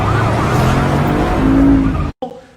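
New car's engine roars loudly with a sustained high tire squeal building in pitch, then an abrupt cutoff into brief silence and a short rough rumble as it resumes.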